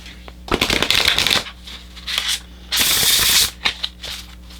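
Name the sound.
shuffling oracle cards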